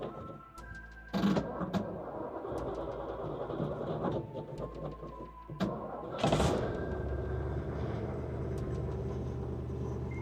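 A Ford Falcon Sprint hardtop with a single exhaust cold-starts: a brief whirring crank is followed by the engine catching with a sharp burst, then a steady, rough rumble that holds on close by.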